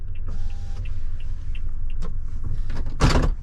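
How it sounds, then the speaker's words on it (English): The rear power window of a Toyota Tundra TRD Pro rolls down inside the cab with a short electric motor whine, followed about two seconds later by a sharp clunk over steady road rumble. "We can roll the back window down and listen to that beautiful TRD Pro exhaust if we want to."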